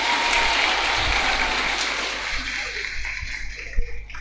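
Audience applause welcoming a guest at a dormitory gathering, a steady wash of clapping that thins out toward the end, with a few bumps and knocks close by.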